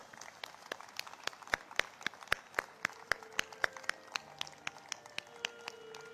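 Audience at a book launch applauding: faint, evenly paced sharp claps that stand out from a softer patter of clapping, heard alone without speech.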